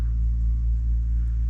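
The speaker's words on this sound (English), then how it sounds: "I don't think I've ever been so happy to hear a digger in the background before in my life." A digger works in the distance near an Irish farmhouse in winter, a low continuous rumble of its engine droning steadily without breaks, faint and far off.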